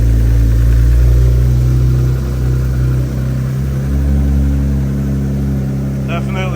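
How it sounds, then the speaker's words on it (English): An Infiniti G37S engine idles steadily after a catch can install, a loud, constant low rumble filling the whole stretch, with a brief higher-pitched sound near the end. "we got the car on and running"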